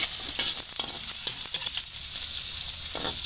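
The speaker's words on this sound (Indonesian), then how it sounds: "ini kita goreng dulu ikan asinnya" Salted fish frying in oil in a pan for a spicy chayote stir-fry, a steady close hiss and crackle with sharp spitting pops scattered throughout, and no talking.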